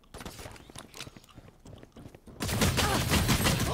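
Gunfire in a competitive tactical shooter match, with bursts of shots and footsteps that become a dense, loud barrage in the second half.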